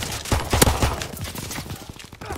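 Gunfire rings out in a WW2 video game as a loud, close cluster of rapid shots, followed by scattered lighter reports that trail off.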